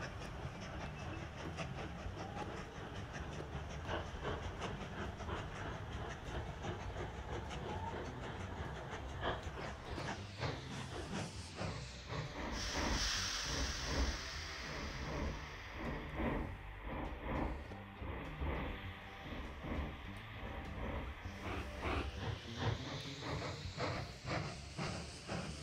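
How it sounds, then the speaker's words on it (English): A big steam train rolls past in the railway-building game Mashinky, a sustained clickety-clack of wheels with hissing steam bursts, loud and continuous throughout with no talking. "Oh, a big train coming."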